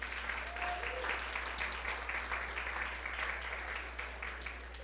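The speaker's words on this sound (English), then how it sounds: "Can we have another round of applause?" A crowd claps steadily for several seconds, a dense crackle of many hands that holds even and then tapers slightly at the end.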